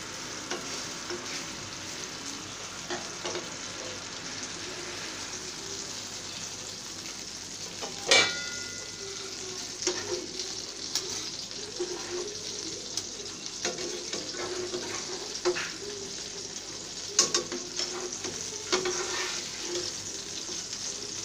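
Eggplant pieces frying in hot oil in a pan, a steady close sizzle running throughout with occasional clinks and stirring bumps, no talking.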